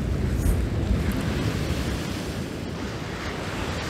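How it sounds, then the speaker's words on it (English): Sea waves break on the shore at Barmouth, Wales, a loud continuous roar of surf mixed with wind buffeting the microphone, with no one speaking. "he's just stood there watching the waves"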